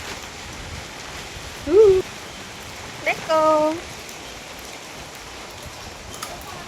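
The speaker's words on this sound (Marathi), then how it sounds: "पाऊस बघा, एन्जॉय करा" Steady, continuous rain falling during a heavy monsoon downpour, a soft even hiss heard from close by, with a couple of short spoken words over it.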